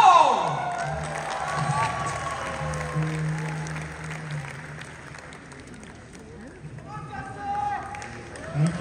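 A live audience at a comedy show in Birmingham, UK, gives a loud burst of applause and cheering to welcome a performer onto the stage, with the clapping fading to a steady murmur and swelling again near the end.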